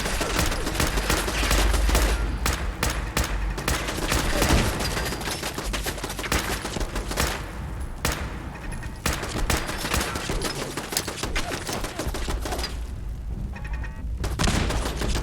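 Dense turret gunfire in the video game Fallout 4, rapid overlapping shots rattling almost without pause, loud and close, with brief lulls before the firing resumes, no voices.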